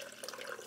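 Water runs from a tap into a cooking pot for spaghetti, a faint, steady splashing pour heard briefly and alone.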